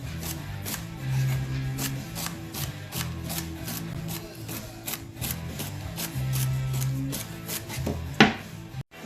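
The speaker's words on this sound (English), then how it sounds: "Plus celery, the funnest to chop." Celery is chopped with a knife on a board in a steady, brisk rhythm of sharp close taps that continues throughout with no talk.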